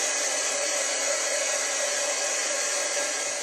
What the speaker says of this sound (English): I'm going to heat set it just to dry it a little bit faster